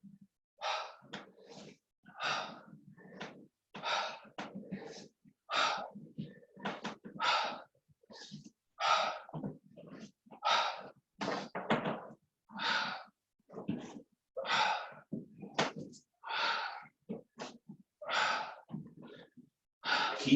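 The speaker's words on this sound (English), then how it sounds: "Keep breathing." Rhythmic heavy breathing during a no-equipment full-body HIIT workout, a steady run of loud, close breaths and gasps repeating about every second, with no talking.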